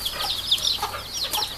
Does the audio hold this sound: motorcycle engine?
no